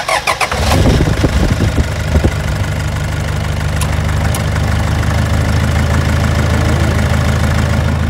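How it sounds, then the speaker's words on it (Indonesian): A loud race car engine cranks over, catches, and settles into a rough, throbbing idle, recorded up close with no talking. "Untuk bunyi mesinnya malah tergolong hampir-hampir sama aja sama mesin standar bunyinya."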